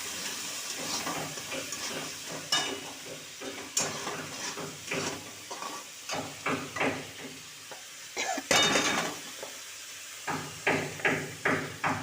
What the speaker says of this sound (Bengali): দেখো এটা আমি একটু নেড়ে চেড়ে নিই ভালো করে